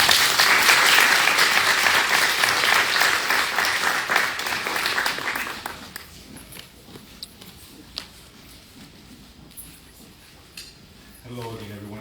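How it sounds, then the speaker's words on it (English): Audience applause for the panelists at a domestic violence awareness event, loud and dense for about six seconds, then thinning to scattered claps and murmuring voices before a voice starts up at the end. "let's give another round of applause for our panelists"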